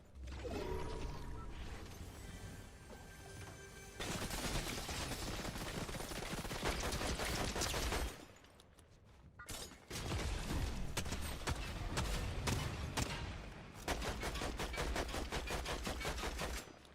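Rapid bursts of gunfire from the Fortnite video game in zero build solos, dense rattling volleys running almost continuously with a short lull midway, loud and close.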